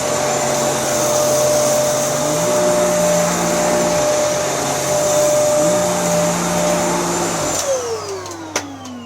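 A Panasonic vacuum cleaner runs steadily on carpet, a loud continuous motor whine with shifts in pitch as it moves, then winds down near the end with a small click.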